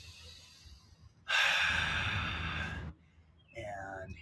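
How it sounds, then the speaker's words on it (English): Deep breath during a kneeling hip flexor stretch: a long, close, audible exhale lasting over a second, followed by another softer breath, with faint background noise and no talk. "One more big breath."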